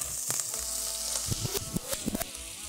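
Oil and butter heating together in a cooking pot, giving a soft, steady sizzle with faint crackles and a few brief clinks, fairly quiet, with no talking.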